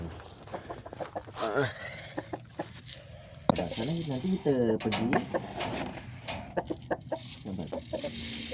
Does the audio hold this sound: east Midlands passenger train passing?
no